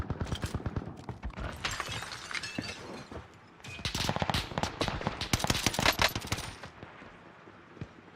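Rapid automatic weapon fire in the video game Warzone, loud and close, rattling in dense bursts with a short lull midway before the firing resumes.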